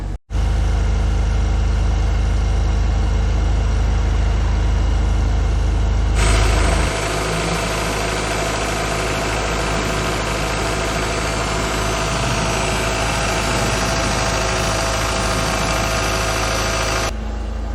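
Small engine idling steadily on a manual choke at about 1,400 to 1,500 RPM, a loud, even, continuous drone that shifts slightly in tone partway through, heard alone without talk.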